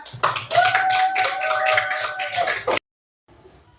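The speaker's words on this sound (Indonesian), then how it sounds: "Kasih aplaus untuk kelompok 4." A class claps for a presenting group, a dense burst of many hands near and loud for about two and a half seconds before stopping abruptly, followed by faint room noise.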